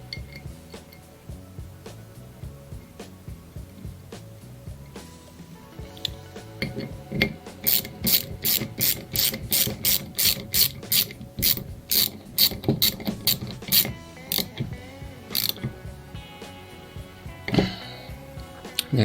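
Ratchet wrench clicking as a 10mm bolt with a copper washer is tightened into a Honda CB450 fork during a rebuild, with rapid bursts of close metallic clicks and some clinking of tools.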